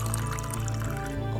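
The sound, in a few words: water poured into prawn curry pan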